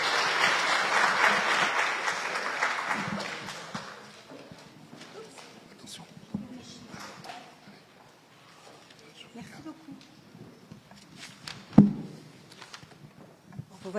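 Audience applause at an award ceremony honouring high-school graduates in Guadeloupe, loud and dense for the first four seconds, then fading into scattered claps, murmurs and footsteps, with one sharp knock near the end.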